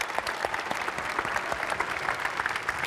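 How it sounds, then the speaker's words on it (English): An audience at the FIFA eWorld Cup 2019 final applauds a finalist, a dense run of clapping with sharp individual claps standing out, fairly close and without speech. "Give it up for Emrys Desari."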